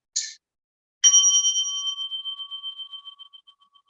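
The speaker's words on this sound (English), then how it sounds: "The bell goes" A bell in a guided breathing session, struck twice: a short first tap, then a brighter strike that rings out with a long, shimmering, pulsing decay fading slowly into silence.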